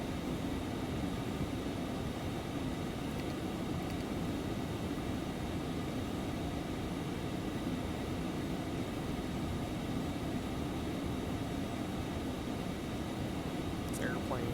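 Simulated Embraer Phenom 300 business jet in flight in X-Plane 11, a constant broadband cabin roar of jet engines and airflow, steady and fairly loud throughout, with a faint voice under the noise.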